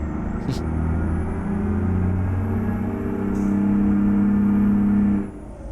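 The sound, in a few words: Ford LTL 9000 truck engine in American Truck Simulator video game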